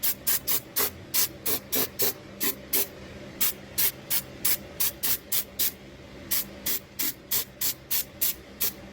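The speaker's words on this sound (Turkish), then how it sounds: "Sıvı gresle yağlıyoruz." Liquid grease sprayed onto clutch parts of a Hero XPulse 200 4V motorcycle, a steady run of short, sharp hissing aerosol bursts, close and loud, with brief gaps between them.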